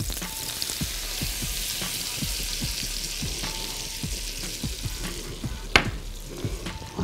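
Flour cooking in melted butter in a pan sizzles with a steady crackling hiss, punctuated by repeated soft stirring scrapes and a brief louder clink near the end, with no voices.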